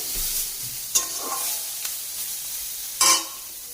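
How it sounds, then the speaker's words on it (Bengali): A turmeric spice mixture sizzles in a pan during cooking of a Bengali puti fish curry, with a steady frying hiss and two sharp scraping stirs at about one and three seconds, close and clear. "এটা ভালো করে না কষালে কী হবে হলুদের গন্ধটা ছাড়বে তাই ভালো করে একটু নেড়ে নিচ্ছি"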